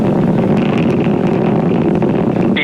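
SpaceX Falcon 9 rocket engines on the Crew-4 launch from LC-39A at Kennedy Space Center, throttled down during ascent before max Q: a steady, loud, broadband roar that rumbles continuously, heard without talk.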